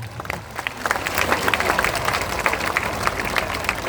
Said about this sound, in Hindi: लेकिन ताली बजा दीजिए